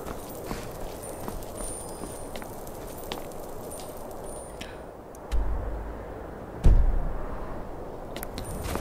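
Horse hooves clip-clop in the video game Skyrim, a steady, moderately soft plodding under a noisy outdoor game ambience, with two heavier thuds near the end and no talking.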